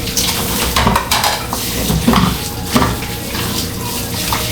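A running tap pours steadily into a sink while plates, saucers and cutlery are washed, with frequent clatter and clinks of dishes close by under the continuous rush of water.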